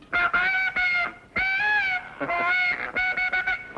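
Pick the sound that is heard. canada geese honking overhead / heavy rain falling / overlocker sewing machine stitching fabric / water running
canada geese honking overhead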